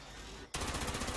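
An ultrasonic Gatling laser firing in Fallout 76, a sudden loud, dense burst of rapid pulsing shots starting halfway through after a quieter lead-in.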